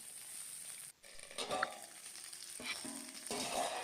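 Spiced cauliflower sizzling in a pan, a steady frying hiss broken by a brief pause and bursts of stirring and scraping as the pieces are turned.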